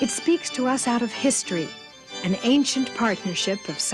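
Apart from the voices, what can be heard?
No everyday noise stands out behind the speech.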